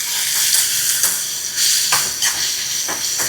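Crushed pepper, shallots, garlic, cumin and chilies sauté in a hot pan with a loud, continuous sizzle and hiss, broken by brief scraping bursts as they are stirred.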